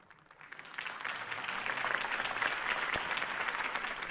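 A crowd applauds after Harvey Dent's campaign speech in the Batman Telltale video game. The clapping rises from quiet into a steady, moderately distant roar and holds there.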